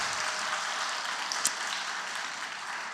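Applause for a church choir conductor: a steady, even wash of clapping from a congregation, sustained at moderate loudness across the whole stretch.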